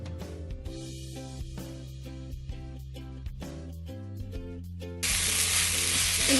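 Spätzle hit hot butter in a pan and burst into a loud, steady sizzle that starts abruptly after several seconds of background music and continues to the end.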